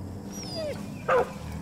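A single dog in the video game Far Cry 5 gives one short, sharp bark near the end of a brief stretch of quieter game sounds.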